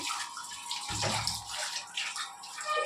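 An eggplant is rinsed under a running kitchen tap, with a steady close rush of water and a brief heavier splash as it passes under the stream.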